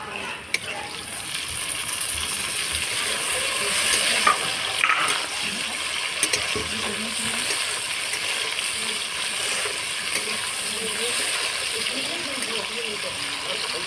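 Chopped tomatoes go into frying onions in a pan for a crab curry. Close, steady sizzling is broken by a few sharp clinks and stirring scrapes, and a voice talks now and then over the cooking.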